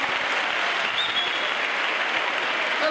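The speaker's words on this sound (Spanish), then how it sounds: "un fuerte aplauso para Dios en este momento" Steady, close audience applause at a church praise festival, a continuous wash of clapping with no pauses across the short stretch.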